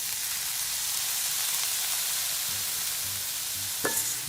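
Sprats (halmasso) frying in a pan with lime juice just added, stirred over low heat: a steady broadband sizzle with soft scraping stir strokes, and one sharper clink near the end.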